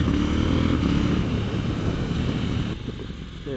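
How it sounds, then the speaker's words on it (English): A KTM 790 Duke exhaust drones steadily while riding the back streets around Lake Garda, Italy, a close, sustained engine note mixed with wind rush, easing slightly near the end. "Listen to that exhaust."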